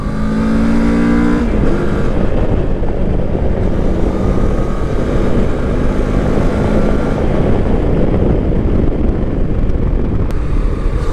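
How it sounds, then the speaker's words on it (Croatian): A 2024 CFMoto 700MT motorcycle being ridden, its engine a steady, loud drone blended with heavy wind rush throughout, with no voices. "kako se jako lepo vozi i veoma je upravljiv ovaj motocikl"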